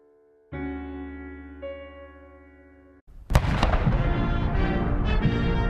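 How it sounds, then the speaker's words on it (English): Sustained music plays, then a sudden loud boom launches dense, crackling blasts that keep rumbling, like cannons firing a 21-gun salute in close succession. "Cannons fired off a 21-gun salute"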